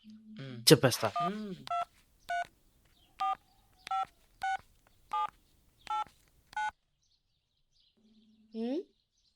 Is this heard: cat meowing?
no